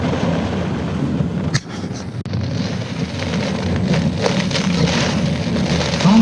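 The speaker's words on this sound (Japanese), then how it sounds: "ひどい雨って感じ" Heavy, steady rain pours down during a typhoon, a loud, dense hiss of drops beating on surfaces along a main road, with no talking.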